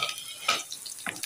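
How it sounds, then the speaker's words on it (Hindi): A quick burst of sizzling as green chillies hit hot oil in a pan for an Indian tadka, with a brief stir and a second crackle, close and moderately loud. "ये बेहतरीन सा तड़का तैयार हो रहा है।"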